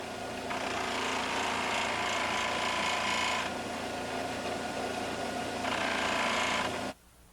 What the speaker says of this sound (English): The blade is fitted into a sharpening board and the back is polished with a buff.